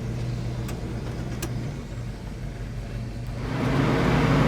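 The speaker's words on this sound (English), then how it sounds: "let's take it on a drive and see how it runs." A 1970 Chevrolet Chevelle engine idles with a low steady drone, then the revs rise and the engine grows louder as the car pulls away.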